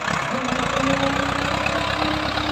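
A Ford 5000 tractor engine working hard while ploughing hard soil, a steady close diesel drone with a low knocking pulse running throughout, loud and continuous.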